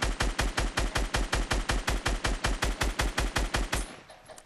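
Fortnite gunfire, a fast, evenly spaced burst of about twenty loud automatic shots ringing close and clear, stopping abruptly before a brief fade, with no voices.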